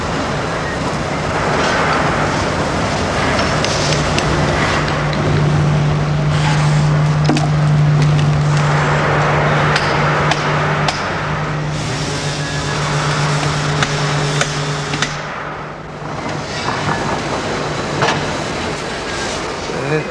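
Moulding machines in a 1979 Kirkintilloch iron foundry make a loud, continuous industrial din of clanking and mechanical rumble, with a sustained droning hum through the middle and brief quieter dips.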